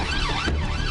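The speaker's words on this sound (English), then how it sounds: "I've activated blue lights and sirens and it's not stopped." A police car siren wails loud and close in a rising and falling sweep, filling the short moment alone during a roadside stop.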